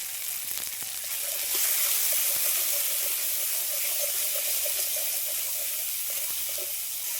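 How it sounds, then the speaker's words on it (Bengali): A little water goes into a ground spice paste with salt and turmeric frying in a pan, and a loud, steady hissing sizzle rises and holds. A faint bubbling runs underneath, with no talking. "অল্প করে জল দিয়ে দিলাম"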